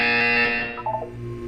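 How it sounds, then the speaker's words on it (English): A buzzer from the Portal 2 video game sounds loud and steady for about half a second, then decays into a brief electronic tone and fades. No voices. "You will hear a buzzer."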